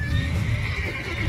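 A horse in the video game Witcher 3 gives a close, loud neigh, a short whinny held over a brief second with no talking.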